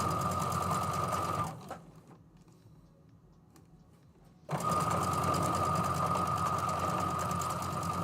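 A sewing machine stitches the top and bottom pieces of quilted tulip blocks together for a table runner, its steady whirring hum running loud, stopping briefly for a few seconds, then resuming just as steadily.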